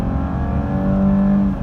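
Mercedes-Benz E320 W210 sedan engine downshifting and pulling hard under about three-quarter throttle, a steady close-up cabin drone with rising tonal whine, no talk.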